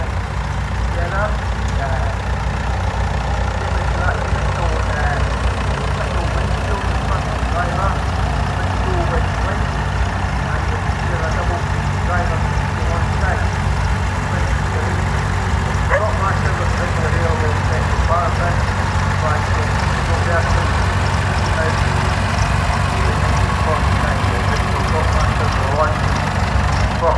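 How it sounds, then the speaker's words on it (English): Two David Brown Cropmaster vintage tractors circle a show ring at the Fife Vintage Rally in Cupar, their engines giving a steady, continuous low rumble, with faint voices in the background. "So here we have two Cropmasters coming round the ring together."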